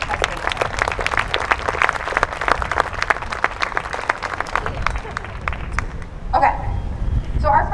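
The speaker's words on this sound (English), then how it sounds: "let's just give them a round of applause for their endurance this year" An audience at a school choir concert applauds with steady, dense clapping that fades toward the end, followed by a few scattered louder claps.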